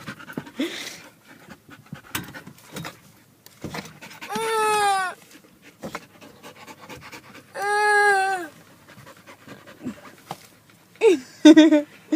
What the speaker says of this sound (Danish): Her er vores lille søde hund.